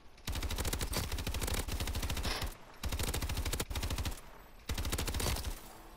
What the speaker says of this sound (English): The guns are so loud without a suppressor.